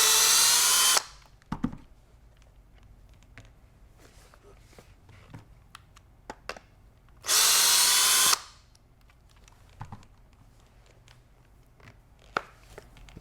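A power driver backs out Phillips head screws from the comfort assembly in the stock of a Benelli 828 U over-and-under shotgun, in two loud bursts of roughly a second each separated by quiet handling clicks and small knocks.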